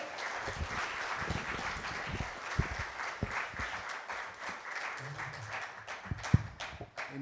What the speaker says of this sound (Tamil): என்னோட எஸ்டீம் மெம்பர்ஸ்க்கு ஒரு பலத்த கைத்தட்டல் கொடுத்துடலாமே